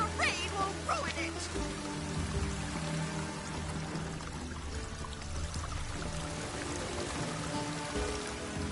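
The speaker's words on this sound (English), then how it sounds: "The rain will ruin it." Steady rain patters and pours across surfaces in The Witcher 3, a dense continuous hiss under faint game sounds and quiet voices.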